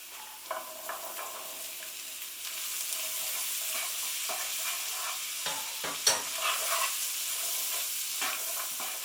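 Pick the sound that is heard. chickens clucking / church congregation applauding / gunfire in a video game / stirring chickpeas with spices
stirring chickpeas with spices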